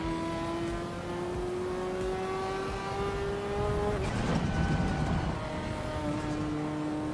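A Ferrari F40 engine droning at steady revs, then pulling up sharply with a rough, rising accelerating note, heard from inside or close by.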